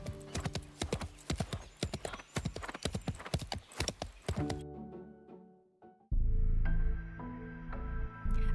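Horse galloping under a rider in the video game Love and Deepspace, rapid rhythmic hoofbeats that slow and fade, followed by a soft orchestral musical swell.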